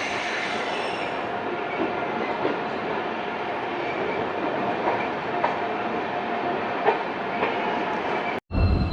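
The Purnagiri Janshatabdi Express rolls through Bareilly Junction with a loud, steady rumble of wheels on track, light clickety-clack and faint wheel squeal, ending in a sudden cut.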